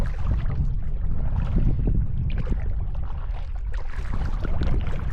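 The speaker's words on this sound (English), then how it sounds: "Much windier out here in the big lake." Wind gusts across a big open lake on a remote wilderness canoe trip, a steady loud rumbling buffet with water lapping, no voices.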